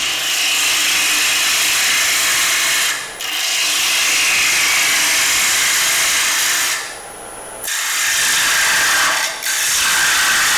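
A woodturning lathe cuts out the centre of a square-edged wooden bowl, giving a steady, loud, hissing scrape that runs almost unbroken, with three brief dips as the tool lifts from the wood.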